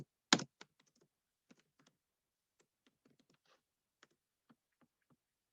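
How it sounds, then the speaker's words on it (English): Computer keyboard keys pressed in a quick burst near the start, followed by sparse, scattered single clicks with long gaps, close and faint in a quiet room with no voices. "Let me type you a quick message."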